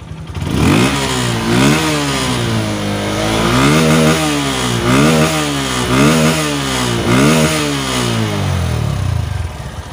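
A repaired Honda Verza motorcycle engine, previously stalling when hot or on long rides, revs repeatedly close up in loud rising and falling bursts over a steady running note, with no talk.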